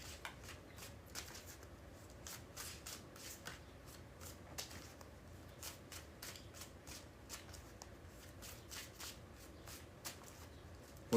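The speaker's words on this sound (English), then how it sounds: "We're going to get 3 more shuffles here in less than a minute." Tarot cards are shuffled by hand close up, soft riffling and tapping repeating in quick irregular bursts at low volume.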